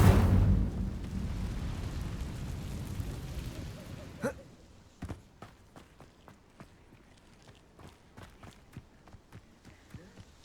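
Incendio fire spell cast in the Hogwarts Legacy-style game: a broad roaring burst for about four seconds, then a sharp crack and a scatter of crackling, popping ticks fading in the quiet.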